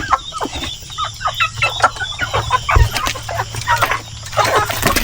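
Rhode Island Red chickens clucking and murmuring close by as they peck at hanging bananas, with a busy, continuous chorus of clucks and soft calls.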